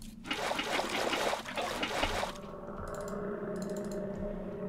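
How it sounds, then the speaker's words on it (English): Flowing water in Minecraft, a hissy rushing trickle that runs loud for about two seconds, then drops away to a quieter background with faint clicking like keyboard typing, with no one talking. "I've got a little water source."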